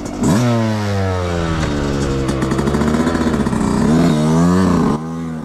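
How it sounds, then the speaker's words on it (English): A 2024 Yamaha YZ125X two-stroke dirt bike engine revs up close and loud, climbing and falling in pitch through several throttle blips before cutting back. "Little test ride, little mini review for Randy's 2024 YZ125X"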